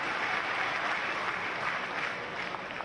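Crowd at a political rally applauding the chief minister, a dense, sustained wash of clapping that stays at an even level throughout, moderately loud with no distinct voices.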